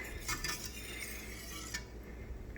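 A whisk scraping and clinking against the bottom of a pan of thickening sauce, close up, with a continuous rhythmic metallic stirring and brief scrapes.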